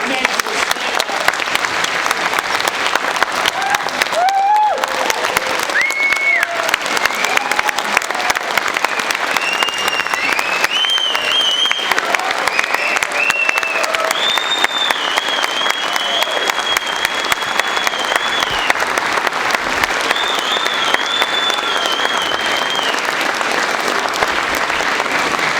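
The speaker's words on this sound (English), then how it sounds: "let's give them all a round of applause." A crowd of submarine veterans and guests applauds at a Holland Club induction ceremony in Groton, sustained, dense clapping held loud and steady for a long stretch with faint tonal sounds threading through.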